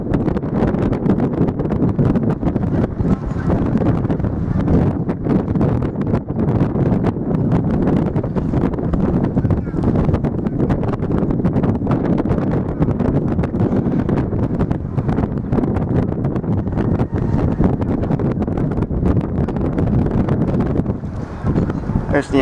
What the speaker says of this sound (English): I hope you can hear me because it's a little windy.